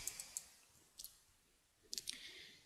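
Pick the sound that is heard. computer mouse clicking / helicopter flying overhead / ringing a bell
computer mouse clicking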